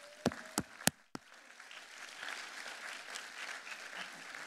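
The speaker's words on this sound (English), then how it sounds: "We would like to give all of you our heartfelt applause." Audience applause at a 2023 UC Santa Barbara College of Engineering commencement ceremony, honoring graduates' families: a few sharp nearby claps, then a steady wash of moderate crowd clapping from a large hall.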